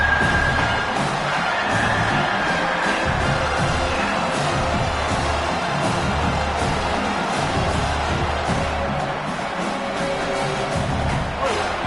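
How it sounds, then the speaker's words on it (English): Dense roar of a stadium crowd cheering throughout an American football video game, a steady wash of voices and whoops at near-constant loudness with no clear breaks. "this crowd is at fever pitch"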